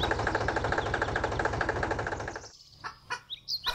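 A red tractor engine chugs with a steady, close, rhythmic knock, then cuts off abruptly, leaving faint chirps and short bird-like sounds.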